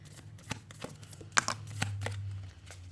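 Small personal power oracle deck cards handled by hand, a quiet sequence of soft flicks and light taps with a louder snap near the middle, close and alone.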